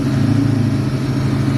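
A warmed-up car with a Honda B-series engine idles steadily, a close, even low-pitched hum with no revving.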